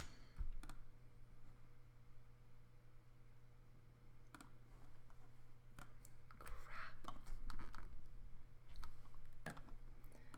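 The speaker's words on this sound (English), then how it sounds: "So you'll just click your embed button and paste your embed code." Computer keyboard and mouse clicks while pasting embed code into a Google Site: scattered sharp taps and clicks at close range over a low steady hum, fairly quiet overall.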